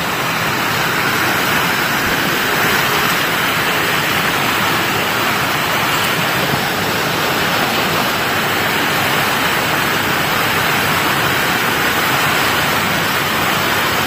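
Loud, steady rush of a flowing river, continuous broadband roar with no pauses, close by.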